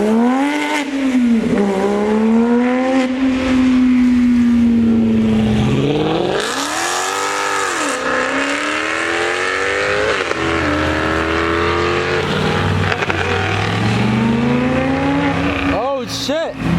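Mercedes G-Wagon pulling away at a mansion car show, its engine revving and rising in pitch through long sweeping pulls with occasional lifts, loud and close, with people talking and shouting throughout.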